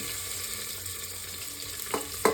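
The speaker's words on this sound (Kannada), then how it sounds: "ಏನೇನು ಮಸಾಲೆ ತೋರಿಸಿದ್ನೋ ಅದನ್ನೆಲ್ಲ ಇವಾಗ ಹಾಕ್ಕೊಳ್ತೀನಿ ಹುರಿಯೋಕ್ಕೆ." Spices fry in a pan for an oyster mushroom gravy, giving a steady soft sizzle with a couple of sharp clinks near the end, close by and without talking.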